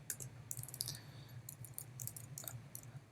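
Soft, close clicks of typing on a computer keyboard, a few short irregular bursts of keystrokes over a low steady hum.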